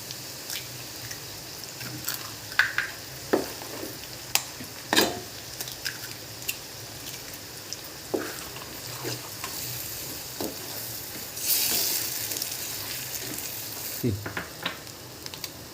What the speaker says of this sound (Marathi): यामध्येच आपण अंडे फोडून टाकायचे